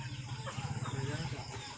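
A chicken clucks nearby in a rapid, rhythmic burst of low throaty pulses over a backdrop of faint household noise.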